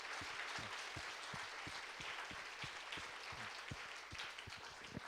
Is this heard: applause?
yes